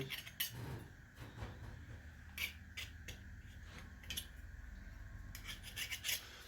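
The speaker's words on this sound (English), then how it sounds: "scrape some of this stuff off" Hand scraping on a power steering part from a 1984 Belarus 400A tractor, a series of short, quiet rasping strokes with faint metallic clinks, fairly close and without talk.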